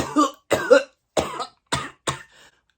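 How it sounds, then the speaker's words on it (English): A series of five sharp, forceful coughs triggered by cigarette smoke, close by, spaced out with brief silences, the last one trailing off into a faint wheeze. "that's how I cough when I smell cigarette smoke."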